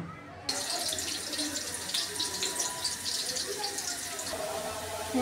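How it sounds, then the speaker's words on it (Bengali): Potatoes frying in a pan of oil, a steady loud hissing sizzle that starts suddenly and keeps going with a fine crackle throughout, close up. "এখন আলুগুলো ভাজা নিব।"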